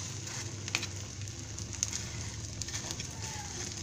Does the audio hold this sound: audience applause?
no